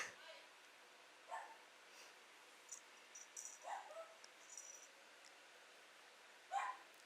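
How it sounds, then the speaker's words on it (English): A dog barks at night in scattered, faint bursts from some distance, with a few sharp yips separated by long quiet gaps over a low hiss. "I don't know why my dog is barking in the middle of the night,"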